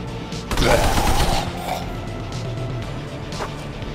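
Gunfire in the video game Pandemic Shooter: a loud burst of rapid shots erupts after half a second, followed by a lower, continuing rattle of game noise.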